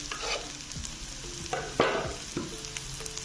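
Cumin seeds and two large chopped green chilies frying in hot oil for aloo palak, a steady soft sizzle broken by a few sharp spoon-on-pan clinks and stirring scrapes, close and moderately quiet with no talking.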